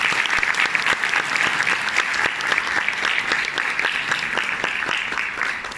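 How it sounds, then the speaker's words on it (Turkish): A seated audience at a Turkish cultural research award ceremony breaks into sustained applause, many hands clapping in an even, bright wash that holds steady throughout. "Alkışlar."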